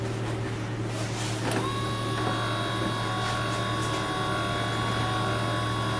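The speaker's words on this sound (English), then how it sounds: "turn the key on and run the wiper motor, make sure everything works" A C5 Corvette wiper motor runs steadily with the key on, giving a continuous mechanical whir and hum with a faint ratcheting, close and fairly constant, brief knocks near the start, no talking.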